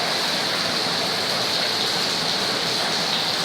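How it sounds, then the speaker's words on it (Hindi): Heavy rain with hail pouring down in a city street, a dense, steady hiss that stays loud and unbroken throughout, with no voices. "तेज बारिश के साथ जालाबारी भी हुई।"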